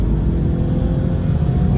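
A BMW 120i with a 150 hp engine cruises at highway speed, around 130 km/h, producing a steady, loud low-frequency rumble of engine and road noise heard from inside the cabin.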